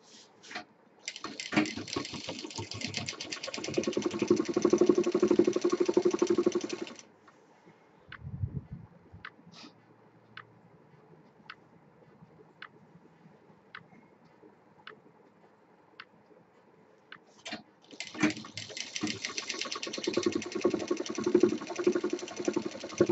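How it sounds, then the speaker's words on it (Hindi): An electric sewing machine stitching a shoulder bag, running in two loud sustained bursts at the start and end, with quiet ticking and handling sounds between them. "डबल मशीन चलानी है।"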